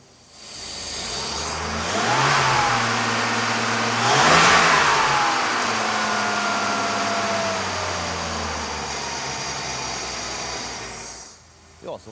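Mercedes 300SL with an M103 engine that has ignition problems, running close by with two throttle blips over a steady idle before it settles and cuts off.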